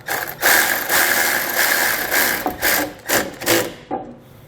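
Rapid clicking of a socket ratchet fitted with a 6mm Allen bit as it snugs down a screw while mounting nerf bars on a 2020 Chevrolet Silverado, a close run of ratcheting bursts ending in a few slower strokes.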